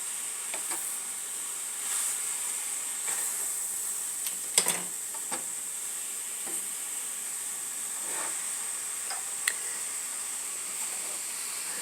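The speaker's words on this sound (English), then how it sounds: "Do you saute mushrooms very often, Melvin?" Mushrooms sauté in a pan with a soft, steady sizzle and hiss, punctuated by a few light utensil clicks and scrapes, close by and moderately quiet, with no voices.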